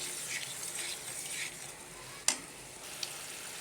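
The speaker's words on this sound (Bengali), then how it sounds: "এগুলা কলিজাগুলো ছেড়ে দিলাম।" Broiler chicken liver fries in spice paste with a soft, steady sizzle, then a sharp clack of a spoon against the pan and a lighter tap after it.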